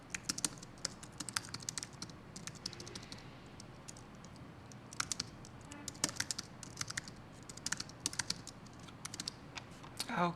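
Typing on a USB computer keyboard produces bursts of quick, close key clicks in irregular runs and pauses over a faint background hum.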